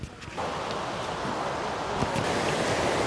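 A river near the Maranatty waterfall in Attapadi gives off a steady, broadband rushing of flowing water that begins after a brief quieter moment and continues at an even, fairly close level.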